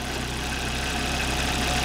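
A 2001 Volvo XC70 with a 2.4 liter turbo, California-emissions engine idles steadily and smoothly, a continuous close, even engine hum with a low rumble throughout and no talking.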